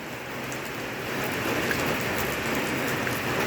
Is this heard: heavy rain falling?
yes